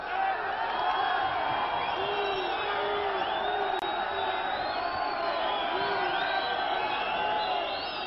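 A wrestling-match crowd cheers and whoops continuously as the fighters clash, a dense roar of voices with rising shouts throughout, under a commentator's talk.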